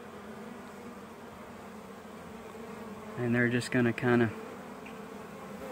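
A constant low hum of Italian honey bees buzzing nearby during hiving, with a person briefly speaking over it in the second half.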